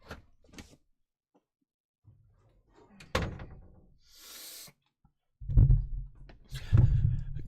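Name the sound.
closing a door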